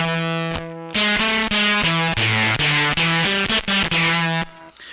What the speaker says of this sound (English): I really like the fuzz sound on this. So thick.